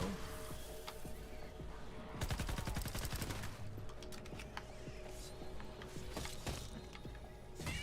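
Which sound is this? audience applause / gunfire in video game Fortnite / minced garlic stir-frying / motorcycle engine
gunfire in video game Fortnite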